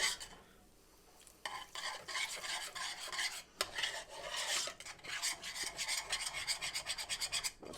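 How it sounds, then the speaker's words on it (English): A utensil stirring and scraping gravy across the bottom of a pan: continuous rasping, rubbing strokes that quicken into a steady back-and-forth rhythm, close and moderately quiet, with no voices. "Let's scrape the bottom of your pan."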